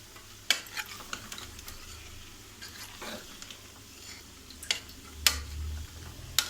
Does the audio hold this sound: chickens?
no